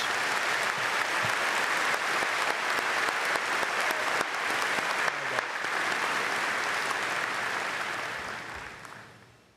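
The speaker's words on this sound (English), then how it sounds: "Let's have a round of applause for these university leaders." Crowd applause at the Auburn University spring commencement ceremony, a steady broad wash of many hands clapping in a large venue, continuous for about nine seconds and then fading out.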